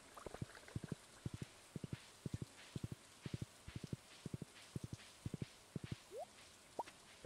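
Horse hooves clip-clop in the Stardew Valley video game, a steady faint trot of paired clicks at an even rhythm, with a couple of short rising chirps near the end.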